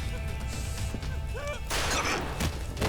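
Gunfire bursts in the video game Judgement, a loud cluster of shots and crashing impacts breaking out midway over music and game sounds.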